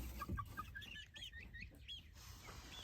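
Chickens in a coop cluck and chirp softly in a series of short, close calls over a faint background hum.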